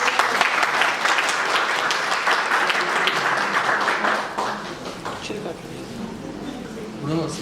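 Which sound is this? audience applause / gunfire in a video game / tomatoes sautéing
audience applause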